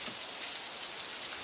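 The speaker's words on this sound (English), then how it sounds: "Rain is coming into our house and Moppet and I have nowhere to go." Steady rain falling and pattering on surfaces, a dense, even hiss that holds at one level throughout with no voices.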